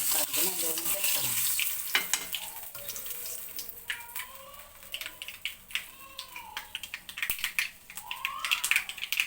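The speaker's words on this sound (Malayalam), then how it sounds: "കടുകെല്ലാം പൊട്ടിയിട്ടുണ്ട്" Mustard seeds spluttering and popping in hot oil for a Kerala-style payar (bean) curry, a busy crackling sizzle with sharp irregular pops close by, joined by some clattering and running-water sounds, no talk.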